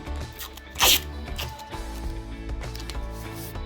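Masking tape is torn and pressed around the edge of a car headlight, giving one short, loud ripping burst followed by quieter crinkling and rubbing over a steady background.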